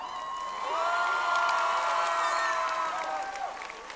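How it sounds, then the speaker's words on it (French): A crowd at the Japan Expo cosplay show cheers and applauds the cosplayers, loud and sustained, with high shouted whoops riding over the dense clapping. "Je vous laisse les applaudir une dernière fois!"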